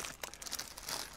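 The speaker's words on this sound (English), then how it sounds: "Now we need the sides, the shell as it were, another plastic bag," Crinkling of a plastic bag from a Tamiya model kit, a brief close burst of crackly rustling.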